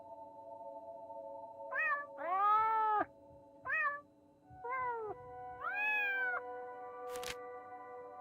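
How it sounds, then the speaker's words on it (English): Several distinct cat meows of varying pitch and length sound in close succession, clear and near over a steady electronic hum, as different buttons trigger them in a puzzle game, ending with a brief click. "presses the buttons and listens to different meows dumbfounded"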